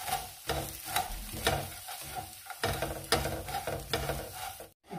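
Two spoons scrape and clatter through sticky fried leftover rice, peanuts and sugar in a pan, with a soft sizzle underneath and a steady, busy stirring rhythm.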